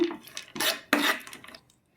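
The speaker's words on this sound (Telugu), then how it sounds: "ఒక టేబుల్ స్పూన్ నెయ్యి అయితే వేసుకున్నానండి అలాగే జీడిపప్పు కిస్మిస్ అయితే వేయించుకుంటున్నాను" Cashews and raisins fry in a tablespoon of ghee in a pan, with a few short bursts of scraping and clinking from a spoon against the metal, then a quiet gap.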